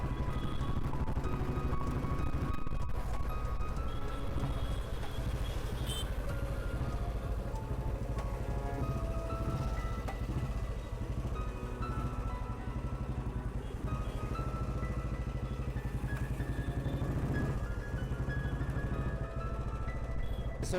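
A 1970 Royal Enfield Bullet motorcycle cruises in fourth gear, its steady engine thump running continuously under heavy wind rush, with no talk.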